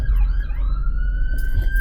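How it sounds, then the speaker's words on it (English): A wailing emergency siren rises and holds a steady tone, loud and fairly near, over a low rumble of traffic. "And there's a bloody siren."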